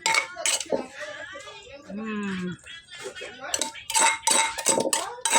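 Papaya salad (som tam) being scooped onto a plate, with quick clinks and scrapes of a spoon against dishware amid close talking, including a voice.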